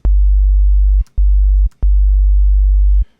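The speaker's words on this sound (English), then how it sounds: "select basic shapes, which is going to start me with just a simple sine wave" Three bursts of a deep, pure synth sine tone pitched down three octaves for an 808 bass, each starting with a click and cutting off abruptly, the last one longest, loud and alone.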